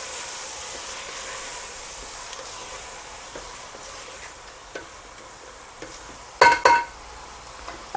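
Ajwain and kalonji spices with salt frying in oil for a mutton paya (goat trotter) curry, giving a steady low sizzle and hiss with soft stirring scrapes, then a couple of sharper clatters near the end.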